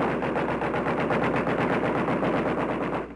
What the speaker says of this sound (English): A Jap plane is met with a hail of anti-aircraft fire.